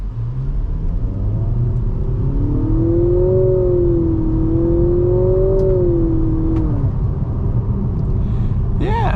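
A 2024 Nissan Altima SR VC-Turbo with a 2-liter turbocharged variable-compression four-cylinder accelerating hard from a stop, heard from inside as a loud steady rumble with a rising, wavering engine whine.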